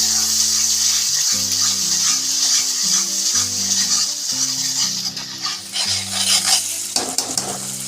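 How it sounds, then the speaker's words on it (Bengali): Spice paste (masala) with tomato, salt and a splash of water fries loudly in a pan, a dense hiss with spatula scrapes, while a melodic background tune plays underneath throughout. "আর একটু জল দিয়ে মশলাটাকে আমি ভালোভাবে কষিয়ে নেব"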